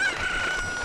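A chicken in The Legend of Zelda: Ocarina of Time lets out one brief, shrill squawk-crow, close and clear above a faint game background, with no speech.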